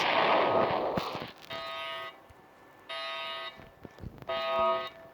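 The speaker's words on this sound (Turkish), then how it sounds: "Evet banka alarmı çalıştı." A video game bank alarm sounds during a robbery, with intermittent buzzing tones in three bursts following an initial explosive blast, moderately loud with some clicks between.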